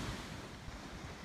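Sea waves wash onto a beach during a shoreline shell-gathering outing, a steady broadband rush mixed with wind buffeting the microphone in a brief stretch.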